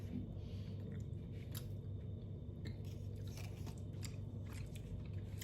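Crunchy biting and chewing of chocolate from a chocolatier, steady close-up mastication noises filling the whole stretch with a few sharper crackly bites, no talk.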